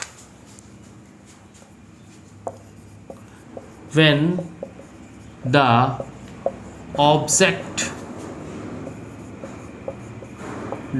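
Marker or chalk scratches across a board during a class 9 physics lesson, a quick run of short strokes and taps, with a teacher's voice breaking in between the writing.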